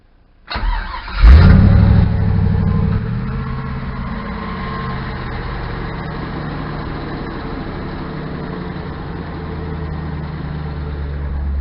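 A 1972 Chevy truck with a 5.3 V8 cold starts: a brief crank, then the engine catches with a loud flare and settles into a steady, rumbling idle with no throttle.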